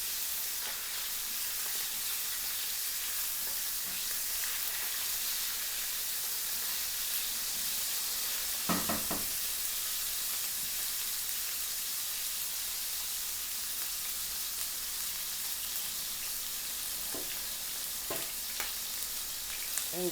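Oil sizzles steadily in a frying pan as ingredients cook for a liver and pan-bread breakfast, a continuous close hiss with a few brief clinks and stirs near the middle and end, no voices.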